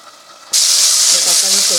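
Tomatoes hit hot oil in a pan for a bottle gourd tamarind curry, setting off a sudden loud, steady hiss and sizzle that continues to the end. A voice speaks faintly underneath.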